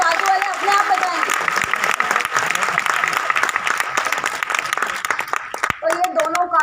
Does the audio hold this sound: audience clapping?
yes